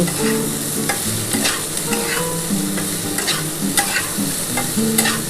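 Okra and potatoes frying in a pan while being stirred, a continuous close sizzle broken by repeated scraping and clinking of a spatula against the metal, with no voices.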